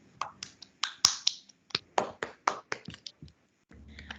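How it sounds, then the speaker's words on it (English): A few people clap for the speakers at a school career webinar, making a sparse, uneven run of sharp individual claps before going quiet. "request the audience to give them a hand of applause"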